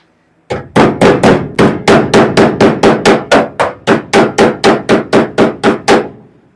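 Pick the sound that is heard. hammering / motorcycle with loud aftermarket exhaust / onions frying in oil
hammering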